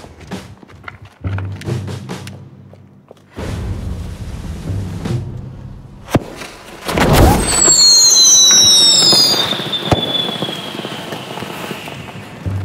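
Fireworks being set off outdoors in a Danish safety demonstration: sharp bangs and a crackling burst, then a loud sustained hissing, whistling rocket-like shriek with rising tones, with rumbling and popping around it.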